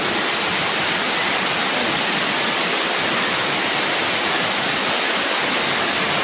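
Deep floodwater rushes through a flooded neighborhood in Siakno, a dense, unbroken hiss and roar of fast-moving water that stays loud and steady throughout with no talk over it.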